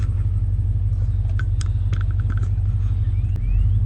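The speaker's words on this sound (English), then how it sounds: "I just want to run the transmission through all the gears, all the ranges in the transmission, to make sure that all the fluid passages are filled up" A Chevrolet Suburban engine, just fitted with a replacement transmission, runs steadily close by as its gears are shifted, giving a loud, even low rumble with a few faint clicks and a slight change near the end.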